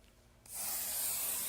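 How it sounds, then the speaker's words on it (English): Quilt basting spray hisses from an aerosol can held close to fabric, one steady continuous spray starting abruptly and holding at even loudness. "Up close where it doesn't spray everywhere."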